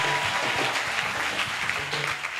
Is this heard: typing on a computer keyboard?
no